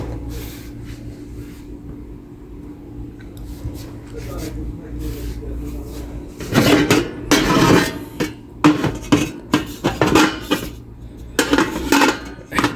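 Metal cooking pans being picked through and sorted clank and rattle loudly in irregular bursts during the second half, with people talking over and between the knocks.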